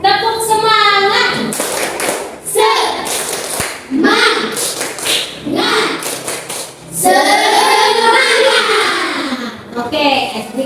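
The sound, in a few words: class doing a rhythmic spirit clap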